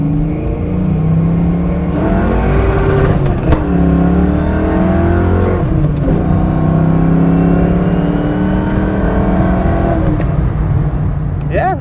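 A 1993 Ford Mustang LX 5.0 coupe with a five-speed manual accelerating hard on a test drive: a loud, close engine roar that climbs through the revs, drops at gear shifts and climbs again, with talking in the car over it.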